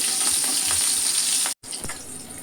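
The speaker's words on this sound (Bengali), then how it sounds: "এবার আমি দেব আর কিছু কেটে রাখা কাঁচা লঙ্কা ভেজে নিয়ে" Chopped green chillies frying in a pan of hot oil, a bright, dense sizzle with soft stirring taps. It is close and steady, except for a near-silent cut partway through, with no talking.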